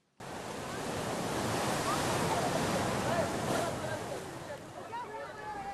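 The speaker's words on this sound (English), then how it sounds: "Lido Beach on a Friday afternoon." Surf at Lido Beach in Mogadishu, Somalia washes in a steady broad rush under wind, moderately near, with faint crowd voices in the background.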